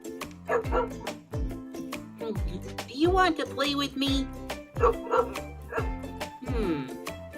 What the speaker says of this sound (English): I don't know what his woofs mean, but he sure has a lot to say.